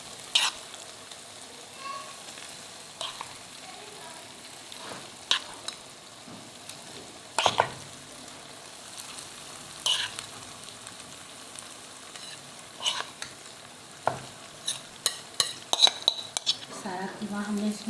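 Marinated minced keema fries quietly in a pan, a soft sizzle under scattered clinks and scrapes of a spoon stirring against metal, the clatter growing busier toward the end.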